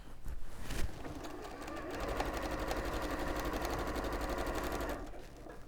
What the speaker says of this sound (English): we're going to sew up, across and down.